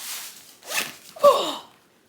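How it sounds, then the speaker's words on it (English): Zipper pulled around a packing cube holding three pairs of shoes, in three short rasping bursts close by, the last one loudest, with no talking. "Let's see how far we can zip it like this"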